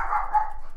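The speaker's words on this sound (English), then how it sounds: "I have dogs, so you're going to probably hear them bark." Dogs barking in a home during a live watercolor journaling session, a short continuous burst of loud nearby barking with no talk over it.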